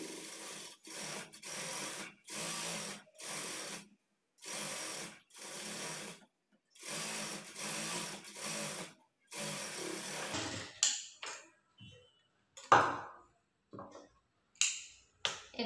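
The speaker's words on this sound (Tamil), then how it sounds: "இந்த கிளாத்தை மடிச்சுட்டு மேலே வந்து டாப் ஸ்டிச் வந்து போட்டுக்குங்க." A sewing machine top-stitching a folded edge on a blouse runs in a steady series of short bursts with brief pauses between them, then gives way to scattered small handling clicks and taps, with no voices.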